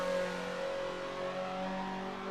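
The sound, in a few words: Mazda NC Super 20 tuned exhaust revving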